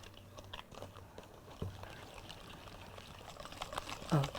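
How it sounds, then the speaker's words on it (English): Cheesecake batter being whisked in a bowl at home, a soft, quiet wet slosh and scrape with an uneven rhythm and a slightly louder stir near the end. "Let's give it a good whisk."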